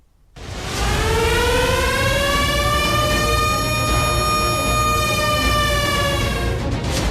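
A loud, steady air raid warning siren wails, rising in pitch and holding, droning continuously with layered harmonic tones and no talk over it.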